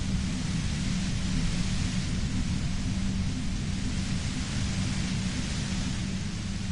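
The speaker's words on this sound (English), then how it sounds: "You hear through the white noise. It's especially loud suddenly." A loud white noise effect: a constant, dense hiss with a heavy low rumble beneath, steady and unbroken for the whole stretch, with no voices.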